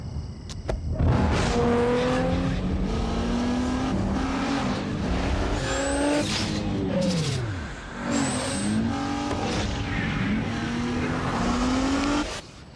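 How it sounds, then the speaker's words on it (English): A 265-horsepower Nissan Maxima drives in a TV commercial, its engine revving loud and close and rising through gears with sweeping pitch changes, and a brief tire squeal partway through. "The 265 horsepower Nissan Maxima."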